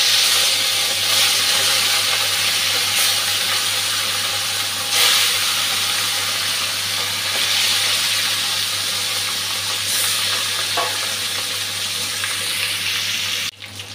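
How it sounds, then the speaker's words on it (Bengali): Katla fish rubbed with salt and turmeric fries in hot oil, a continuous close sizzling hiss that holds steady throughout, with a brief clatter at the end. "তেলটা গরম হয়ে গেছে, নুন হলুদ মেখে মাছটা ভেজে নিচ্ছি।"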